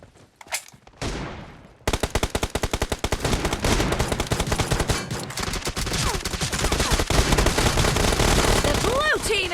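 Dense, rapid gunfire rattles in PUBG Mobile, with a few isolated shots at first, then a loud, sustained stream of overlapping sharp reports with game effects mixed in.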